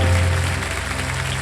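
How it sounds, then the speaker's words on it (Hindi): Studio audience on a TV quiz show applauds in a short burst, clapping heard alongside steady background music. "एक बार फिर स्वागत के लिए इनका तालियां बजा दें हम इनके लिए।"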